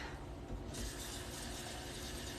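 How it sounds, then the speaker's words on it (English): Water runs from a tap into an emptied tomato can in a home kitchen, a quiet steady pour whose hiss brightens as the flow strengthens partway through. "You're just filling up the cans to get the ingredients out of it and to get my tomato sauce off my"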